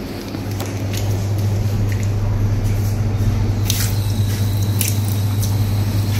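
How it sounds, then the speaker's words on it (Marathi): Water is splashed over feet at the entrance of the Shree Swami Samarth Math temple in Palasdari, Karjat: a steady, fairly loud wash of running and splashing water with scattered drips over a low electrical hum. "इथे मस्तपैकी पायावर पाणी घ्यायचं, पाय स्वच्छ करायचे"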